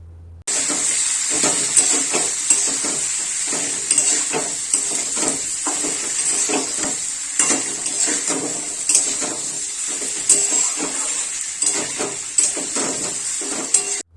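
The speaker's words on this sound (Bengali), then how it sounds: "দিয়ে মশলার সাথে ভালো করে মিশিয়ে সবজিটাকে মশলার সাথে ভালো করে কষাতে হবে।" Fried vegetables are stirred with spices in a hot pan for a Bengali shukto with fish head, giving a loud, steady sizzle with repeated scraping strokes and occasional soft clatters, and no one speaking.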